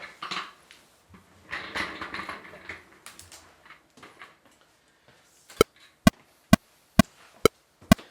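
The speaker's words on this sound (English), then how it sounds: "So that annoying sound, that's a click track" After some soft rustling and clatter, a metronome click track sounds six sharp, evenly spaced clicks, loud and close, with no talk.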